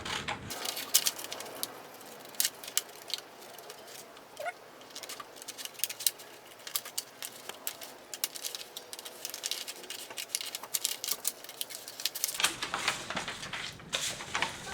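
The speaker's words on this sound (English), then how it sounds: "Now I can start cutting the armhole curve." Scissors cutting along the curved armhole line of a paper dart pattern: a long run of quick, crisp snips and papery crunches, close and fairly quiet, with short pauses between bursts and no talking.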